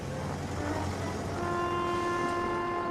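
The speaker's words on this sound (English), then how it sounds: "It was Arry and Bert honking their horns. Diesel engines don't have whistles. They have horns instead." Diesel railway engines sound their horns, sustained overlapping tones that hold steady and layer together, loud and close over a low rumbling background.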